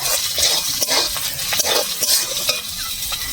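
Spices stirred and frying in a pan for a Bengali taro-leaf (kochu shak) dish, with a steady close sizzle and repeated scraping strokes of the spoon across the pan, no voices.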